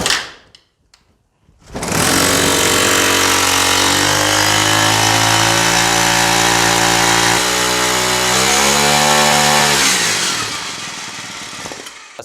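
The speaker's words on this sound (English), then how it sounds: "3 to 5 times to start engine." A Troy-Bilt TB575EC gas weed eater with a newly replaced carburetor starts after a couple of quiet pulls and runs loud and close, its two-stroke whine revving up and down for about eight seconds before easing off.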